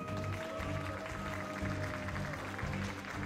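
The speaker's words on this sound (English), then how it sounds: "Big cheers here from the crowd for Scarlett." A live crowd at a StarCraft II GSL esports match applauds and cheers, a steady dense wash of clapping and voices that stays at the same level throughout, fairly distant.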